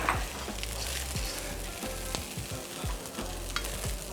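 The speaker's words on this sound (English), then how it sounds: "Nice, hot, fried rice, plating up now." Hot egg fried rice sizzles loudly in a wok while being scooped and plated, with repeated scraping and stirring knocks over the continuous frying hiss.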